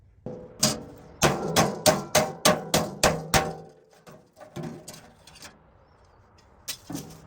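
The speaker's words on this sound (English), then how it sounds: "you could use a hammer and just pound them off of here" Rapid, evenly spaced metallic hammer blows knocking metal strips off a stainless steel sink, about ten in a row, then a few scattered strikes, loud and close.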